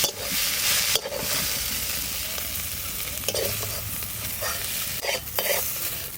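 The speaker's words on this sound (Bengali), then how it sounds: "এই যে তেতো শাক ভাজা হয়ে গেছে।" Bitter greens fry and get stirred in a pan for a village dish, a steady broadband sizzle running throughout with repeated scraping stir strokes breaking through at intervals.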